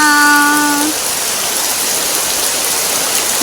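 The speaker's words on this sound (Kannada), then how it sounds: "ಬನ್ನಿ ಮಳೆ ನೋಡ್ಕೊಂಡು ಬರೋಣ" First rain of the season falls as a steady, even hiss of rainfall, opening with a brief tonal hum that fades within the first second.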